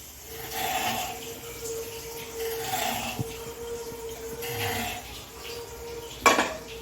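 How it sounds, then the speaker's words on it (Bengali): A metal kadai is set on a stove and oil is poured in, with soft scraping and pouring swells broken by two sharp metallic clanks, close and fairly quiet, with no talking. "এবারে আমরা একটা কড়াই বসিয়ে দিলাম আমরা কড়াইতে ওই পনিরের তেলটাই দিয়ে দিলাম"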